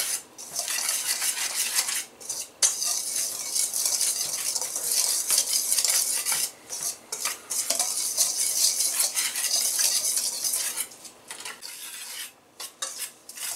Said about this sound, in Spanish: Vamos a revolver esto bien bien.